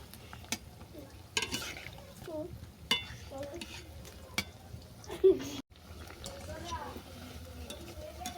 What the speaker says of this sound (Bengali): আর বাকি যে মাখাটা আছে একইভাবে ভেজে নেব।